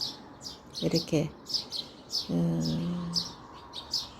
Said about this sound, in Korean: 영상을 찍으니까 참새 소리가 굉장히 활발하네요